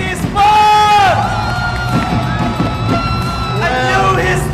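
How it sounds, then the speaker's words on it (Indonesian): A loud esports crowd at the Mobile Legends MPL Indonesia grand final cheers and whoops with sustained yelling voices, a dense roar of many people celebrating at once, close and continuous. "Berikan tepuk tangan untuk Onyx Esports"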